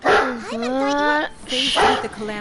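Dogs bark in the video game Genshin Impact, a few loud close yips and barks in quick succession, followed by a short whine.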